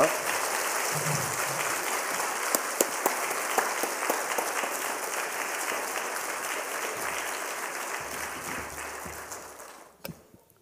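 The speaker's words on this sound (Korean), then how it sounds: "뜨거운 박수로 우리 맞이하겠습니다." A church congregation at a Wednesday worship service gives warm, sustained applause to welcome a guest pastor, a dense, even roar of clapping that fades out sharply near the end.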